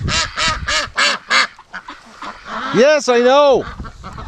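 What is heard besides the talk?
ducks quacking in a pen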